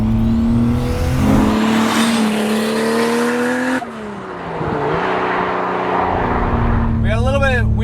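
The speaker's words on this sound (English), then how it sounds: "We got a little bit of wheel spin at the top of second there, as you would expect." An 876 whp MK3 Toyota Supra with a boosted 2JZ on 275 rear tires accelerates hard, its engine roaring steadily and loudly, then briefly dipping as it shifts before pulling again, with wheel spin and tire noise near the end.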